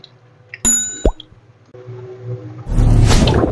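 Pork intestines (isaw) drop into a pot of water, giving a sharp clatter, a wet plop and a squish, then a rising rush of water or boiling noise close by.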